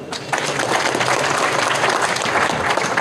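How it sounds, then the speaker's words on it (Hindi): A large crowd at a workers' protest in Connaught Place breaks into loud, sustained applause after a brief quieter moment, the clapping dense and continuous throughout. "जोरदार तालियां।"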